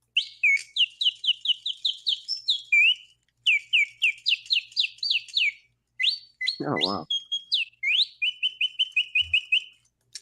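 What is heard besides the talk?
120-year-old mechanical singing bird automaton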